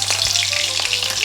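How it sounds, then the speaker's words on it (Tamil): Crushed unpeeled garlic cloves dropped into hot oil, giving a steady, close sizzle with a low hum underneath and a few brief crackles. "ஒரு 4-5 பூண்டு வந்து தோல் உரிக்காமல் தட்டி வச்சுருக்கேன், அதை சேர்த்துக்கிறேன்."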